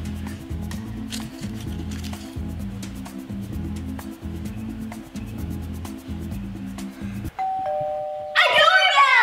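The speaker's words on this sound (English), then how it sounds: "A doorbell!" A two-tone ding-dong doorbell chimes once, clear and close, after a stretch of rhythmic background music, followed by a short burst of rustling noise.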